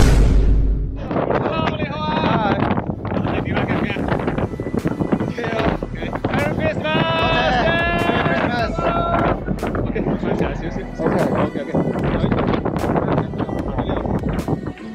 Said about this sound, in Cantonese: 今日好大風